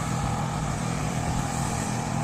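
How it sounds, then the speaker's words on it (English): Generators run steadily the morning after Hurricane Milton knocked out power, a dense, continuous engine drone that fills the space at close range with no pauses. "You're gonna have to talk louder because of the generators."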